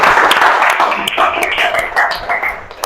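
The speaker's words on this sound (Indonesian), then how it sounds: "Boleh tepuk tangan dulu untuk kalian semua." Students in a classroom clap together in a short burst of sharp, uneven claps, close and fairly loud, with young voices calling out over them.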